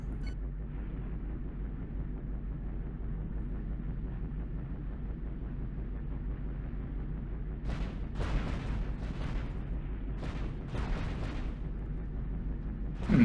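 Video-game cannons fire broadsides at an enemy two-deck sailing ship over a constant low battle rumble, with a cluster of sharp, loud booming shots bursting out in quick succession partway through.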